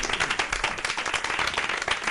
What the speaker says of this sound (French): vous applaudissez très timidement